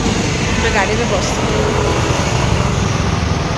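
Steady low road rumble and engine drone fill the cabin of a moving car in Bangalore, continuous and fairly loud throughout, with muffled voices faintly present in the background.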